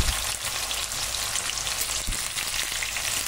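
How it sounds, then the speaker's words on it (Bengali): Sliced onion tossed into hot oil for mutton curry: a dense, steady crackling sizzle like heavy rain, close and even throughout, with a few faint knocks of a utensil. "এবার এই তেলের মধ্যে প্রথমে পেঁয়াজ দিয়ে দিলাম।"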